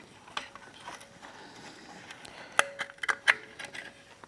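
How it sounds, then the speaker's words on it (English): Torx 15 screwdriver working out Jeep headlight screws, giving sparse soft clicks and ratchet-like ticks, quiet and close with a few sharper clacks near the end. "remove the headlights with a Torx 15 screwdriver"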